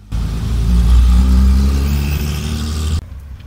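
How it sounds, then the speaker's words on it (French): Classic 2-litre Porsche 911 engine at a vintage car rally, revving loudly and close by with a deep throaty roar, then easing off abruptly after about three seconds. "Encore une 911 2 litres."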